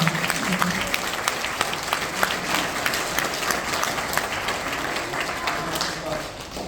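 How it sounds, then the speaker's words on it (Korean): Steady, dense applause from a crowd in a large auditorium for a speaker, filling the whole stretch, loud and continuous without breaks. "나오실 때 힘찬 응원의 박수를 보내주시기 바랍니다"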